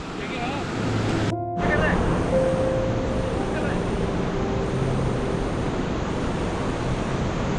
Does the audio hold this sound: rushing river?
yes